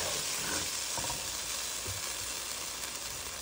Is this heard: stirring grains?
yes